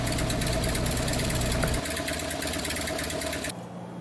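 Harley-Davidson Sportster 1200 idling with straight pipes, a loud, steady, throaty rumble with fast regular pulses, close up and alone, with a slight shift in tone partway through.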